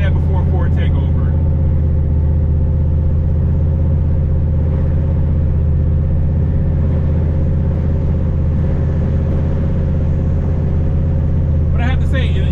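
A turbocharged Ford Mustang engine at wide open throttle roars in a steady, loud, continuous drone with deep rumbling low end, heard from inside the car throughout.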